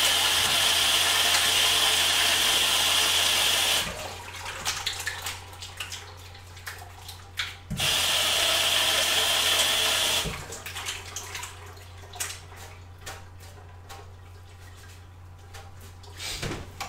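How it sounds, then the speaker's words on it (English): A tap runs while hands are washed during home beer brewing: two bursts of hissing, splashing water, each lasting a few seconds. Quieter clatter and drips come between and after them, and no one speaks. "I'm gonna wash my hands."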